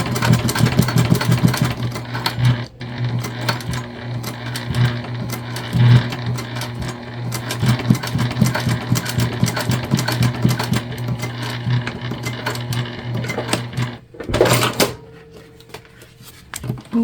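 A sewing machine top stitching the gusset of a clear jelly vinyl bag hums steadily with a rapid, regular needle clatter, running near and continuous for most of the time before briefly stopping and restarting.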